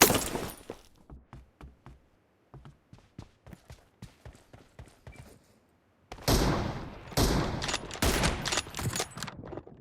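Gunfire from an M24 sniper rifle in PUBG Mobile: a string of sharp, clipped reports and clicks, then a dense, louder stretch of overlapping shots near the end.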